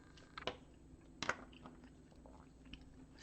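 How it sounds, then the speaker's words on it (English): Someone chews a chew in their mouth at close range, with a few sharp wet crunching bites against a quiet background and softer smacking in between. "Sorry, I've got a chew in my mouth."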